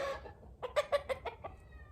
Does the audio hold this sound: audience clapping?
no